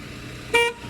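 A single short car horn blast, loud and close, sounding briefly from a parked car while its lights and wipers are tested, over quiet background.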